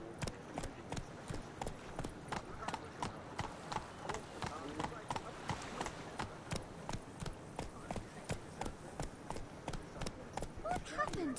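Horse hooves clip-clop at a steady galloping rhythm in a video game, close and continuous for the whole stretch, with a voice talking over parts of it.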